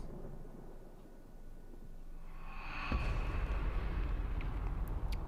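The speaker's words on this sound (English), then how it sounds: "you know it's raining" Rain and thunder in Tomb Raider Definitive Edition: steady rain patters quietly, then a near rumble of thunder swells midway and keeps rolling loudly to the end.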